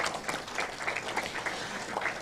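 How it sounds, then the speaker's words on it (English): A crowd at a primary school quiz applauds steadily, a soft even patter of many hands clapping at some distance, sustained for a couple of seconds. "A round of applause, please."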